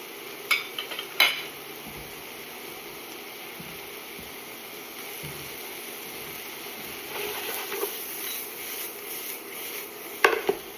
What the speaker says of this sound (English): And when you mix with a spoon, be really gentle